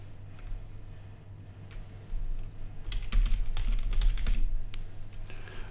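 Rapid clicking of keys being typed on a computer keyboard, with a denser burst in the second half, over a steady low electrical hum; no one speaks.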